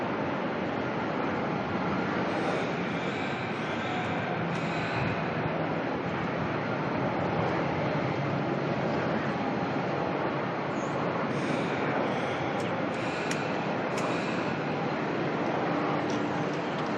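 A Jetstar airliner lines up on the runway at Melbourne Airport, heard as a steady distant engine roar blended with broad wind noise at an outdoor spotting location.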